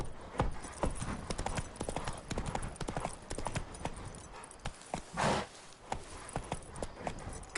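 A horse galloping with rapid, rhythmic hoofbeats close by, loud throughout, with a brief whinny-like swell near the middle.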